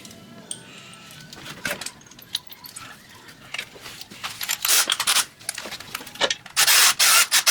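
Nuts being threaded and snugged onto a turbocharger on a 2016 BMW 428i, heard as close metallic rubbing, clinks and ratchety scrapes in irregular bursts that grow louder and denser toward the end, with no talk.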